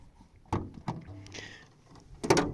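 Hood of a Peugeot 205 being opened: a couple of dull mechanical clunks and a brief creak, then a louder metallic thunk near the end, close by.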